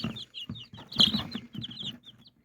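Several small chickens cluck and peep in short bursts close by, irregular and overlapping, with brief quiet gaps between calls.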